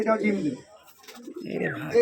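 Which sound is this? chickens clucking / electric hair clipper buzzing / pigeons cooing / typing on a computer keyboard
pigeons cooing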